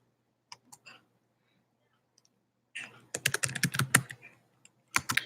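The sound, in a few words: typing on a computer keyboard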